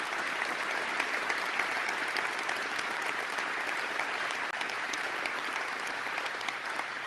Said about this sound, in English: I want to give you both a rounding applause